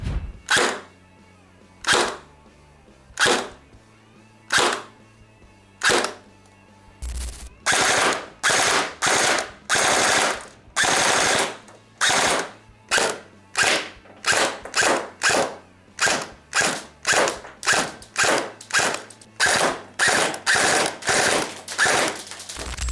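Rapid bursts of sharp, snappy shots from an East Crane M4 SOPMOD Block 2 airsoft rifle, fired in irregular single shots and quick strings over about twenty seconds, close by.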